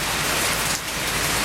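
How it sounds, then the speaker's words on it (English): Heavy rain pouring down and strengthening, a dense, loud broadband hiss of drops on surfaces filling the whole moment with no voices. "the rain is getting stronger too"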